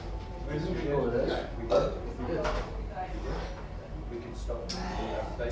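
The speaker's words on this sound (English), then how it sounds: "Sê ek en burp op dieselfde tyd." A person burps during a live episode after eating a habanero, with a short guttural burp sound mixed in among ongoing speech in Afrikaans, close and fairly loud.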